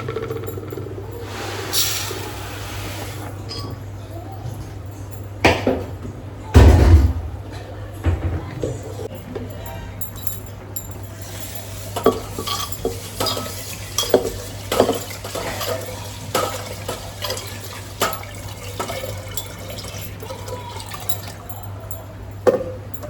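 Rice being tipped into a pressure cooker in a home kitchen: scattered metallic clinks and scraping of utensils and pot, one heavier clunk partway through, with faint watery stirring between the knocks.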